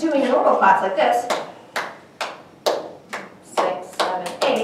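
A handful of sharp single hand claps spaced roughly half a second apart, following a brief stretch of talking, in a third-grade folk dance lesson.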